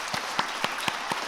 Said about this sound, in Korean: 우리 교역자들 우리 격려 박수 부탁드립니다.